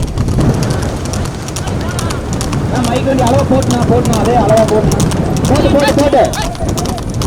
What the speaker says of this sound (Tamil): முதல் குதிரைக்கும் இரண்டாவது குதிரைக்கும் கடுமையான போராட்டம்